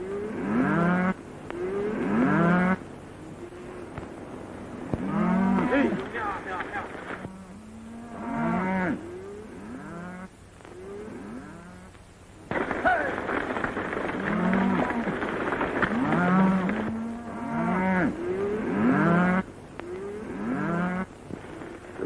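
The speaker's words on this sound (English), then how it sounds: "Nice bunch of cattle you're sending to market, Mr. Dawson." A herd of cattle on a drive to market moos repeatedly, many overlapping low calls near and far, with steady ambient noise and no talking.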